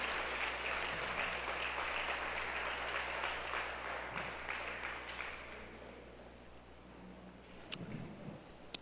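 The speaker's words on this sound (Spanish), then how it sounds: "¿Puedes darle un aplauso más al Rey?" A church congregation applauds in a dense, sustained wash of clapping that fades gradually, leaving a few scattered claps and low room noise.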